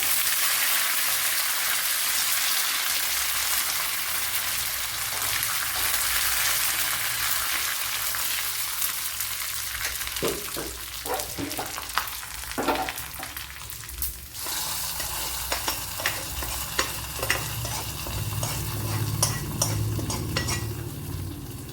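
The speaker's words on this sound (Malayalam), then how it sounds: "ഇതിലേക്ക് ഇനി വറ്റൽ മുളക് ഇട്ട് കൊടുക്കാം അതേപോലെ കറി ലീവ്സ് ഇട്ട് കൊടുക്കാം" Dried red chillies and curry leaves sizzle in hot oil in a pan for a Kerala snake gourd curry, a continuous loud frying hiss broken by clinks and scrapes of stirring, with no voices.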